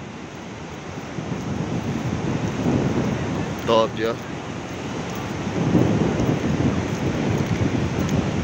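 Sea surf and wind roll in at Itaúnas beach, a steady broad wash with gusty microphone buffeting that swells toward the end, while someone speaks briefly in the middle.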